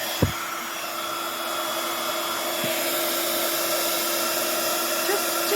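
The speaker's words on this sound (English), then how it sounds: "And now again I'm going to use the heat gun." A heat gun blows hot air over a stitched Christmas craft piece with a resist technique, a steady close whooshing drone running the whole time after a small click at the start.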